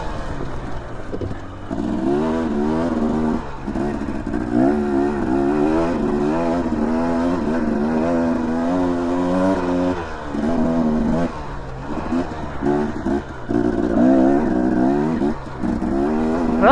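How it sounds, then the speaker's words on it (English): Husqvarna dirt bike engine running along a wild backcountry trail between Idaho and Montana, a buzzing revving drone that rises and falls with throttle changes and short dips, close and continuous with no talk. "the Husqvarna seems to be running good off of this oil I put in it"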